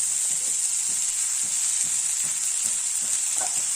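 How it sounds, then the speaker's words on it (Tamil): Manathakkali greens sautéing in a pan with chillies and tamarind for a thogayal, giving a steady close sizzle with soft rhythmic stirring scrapes throughout. "கீரையை கொஞ்சம் கொஞ்சமாக சேர்த்து வதக்கி விட்டுறலாம்."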